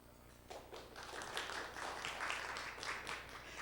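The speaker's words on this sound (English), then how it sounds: "I think that's the first time I've actually gotten applause before I've started the presentation." Audience at a conference session breaks into applause before a talk begins, a soft, steady patter of many hands clapping that swells slightly and holds for a few seconds without speech.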